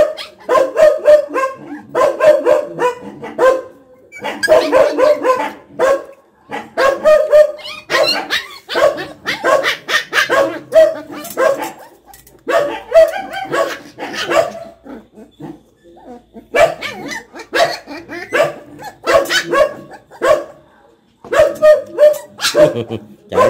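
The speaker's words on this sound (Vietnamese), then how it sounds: "gì sủa dữ vậy, ở đâu" A dog barks fiercely in repeated bursts of sharp barks with short pauses between them, loud and close, continuing throughout with occasional yips and whimpers, while a person speaks in between.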